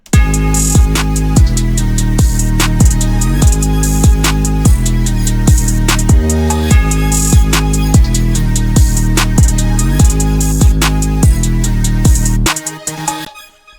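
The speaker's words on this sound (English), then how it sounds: "So for the first bass, we got this right here out of the same drum kit." A booming 808-style bass sample from a hard rage beat's drum kit, with repeated pitch-gliding hits layered under punchy drums and a melodic loop. It plays loud and steady, drops out briefly midway, and cuts off near the end.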